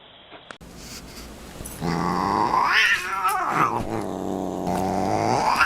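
A cat growls and caterwauls at a black bear, a loud, close, drawn-out wavering yowl that rises and falls for several seconds after a brief quiet start, with no talk.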